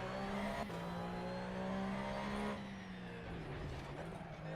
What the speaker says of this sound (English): It's just car noise.